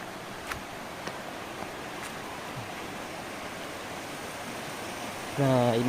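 A village river flows in a steady, broad rushing wash, nearby and continuous, with a few faint knocks, then a voice begins speaking at the very end.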